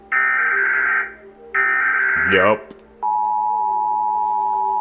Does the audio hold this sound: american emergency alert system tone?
yes